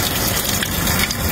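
Water gushing into a Sharp washing machine that fills slowly, a loud, close, steady rush of flowing water with no talk over it.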